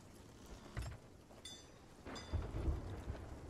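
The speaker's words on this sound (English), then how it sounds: "We'll wait till the storm passes." A thunderstorm with rain in Sea of Thieves: steady rainfall with low rumbling thunder swelling twice, moderately quiet and without speech.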